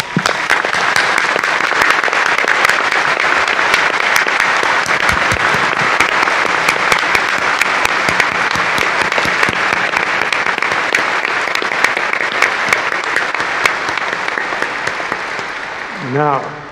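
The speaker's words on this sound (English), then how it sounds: "Give them a big applause." Sustained, loud applause from a church congregation at a 2021 priesthood ordination in the Archdiocese of Los Angeles, dense steady clapping that continues evenly and fades slightly at the end.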